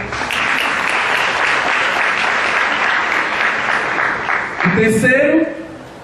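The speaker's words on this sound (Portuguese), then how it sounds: "Uma salva de palmas para ela." Loud, sustained applause from a large crowd at a church gathering fills the space, fading near the end as a voice cuts in.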